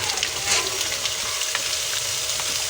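Potatoes added to partly cooked onions frying in a pan for spicy potato slices, giving a steady, close sizzling hiss with faint crackles throughout.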